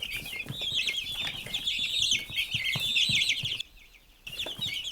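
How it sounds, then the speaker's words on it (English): A flock of baby chicks peeping continuously, dense high-pitched chirps close by and fairly loud, with a brief pause before the peeping resumes. "Baby chicks make this sound."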